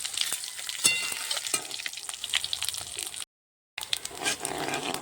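Dry red chillies, bay leaf, whole cumin, cloves, cardamom and black and white peppercorns frying in hot oil for a red chicken curry, a loud close crackling sizzle with pops and spatters that cuts out briefly before resuming.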